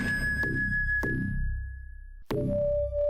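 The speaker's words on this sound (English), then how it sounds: "that's the sound of the exit door opening" In a fan-made Prince of Persia video game, the exit door opens with a series of resonant metallic pings and thuds. A high sustained tone rings underneath and is then replaced by a different tone.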